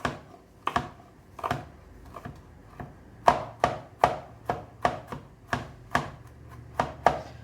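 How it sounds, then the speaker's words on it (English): A knife mincing a couple of garlic cloves on a cutting board, giving a series of crisp, fairly quiet taps in irregular bursts that settle into a steady chopping rhythm, with no voices. "we are going to mince up a couple of cloves of garlic"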